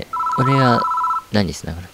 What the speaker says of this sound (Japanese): 電話が鳴り始めた。